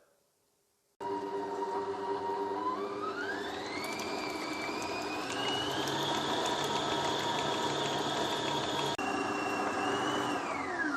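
A kitchen stand mixer beats butter and treacle at medium speed, whirring loudly and steadily after a sudden start, its pitch climbing as it settles and dipping briefly near the end.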